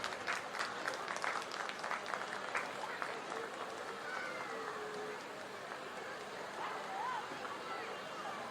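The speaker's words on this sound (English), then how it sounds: "Can we have a big round of applause for all of them?" Sustained audience applause fills the hall at a school's annual concert, a dense steady clatter of many hands with crowd murmur mixed in, continuing at even loudness throughout.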